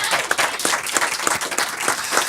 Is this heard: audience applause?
yes